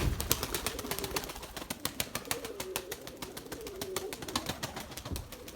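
Pigeons fly in the rain, giving a dense run of quick wing claps and flutters with low cooing woven through, close and steady for several seconds.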